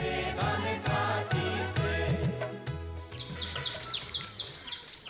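Birds twitter and chirp in open winter countryside in Rajshahi, with quick scattered high calls that grow busier toward the end, over a background of low tonal droning and rhythmic thumping.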